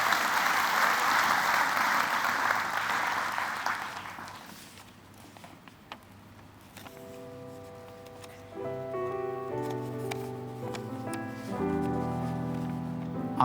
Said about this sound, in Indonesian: Kita kasih tepuk tangan juga untuk Kafin.